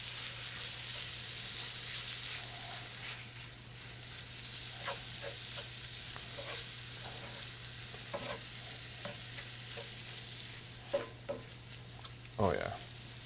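Pico de gallo salsa sizzles steadily in a hot pan, a soft continuous frying hiss, with occasional spoon scrapes and clinks as it is stirred and a louder clatter near the end.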